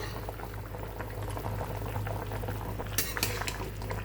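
A thin Bengali shing fish curry seasoned with black pepper, cumin and a little ginger bubbles steadily in a pot, a continuous close simmering hiss with a couple of sharper clinks near the end.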